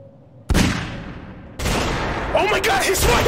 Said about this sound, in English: Oh my god, he's firing back!